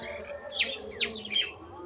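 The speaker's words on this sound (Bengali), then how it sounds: "পাখির ডাকাডাকির আওয়াজ শোনা যাচ্ছে" Birds in an open village field beside mustard flowers give three quick, sharp descending chirps, close and clear over a quiet outdoor background.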